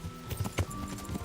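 Hooves of a horse clip-clopping in Kingdom Come: Deliverance, a steady run of close, moderately loud hoofbeats at walking pace, heard alone.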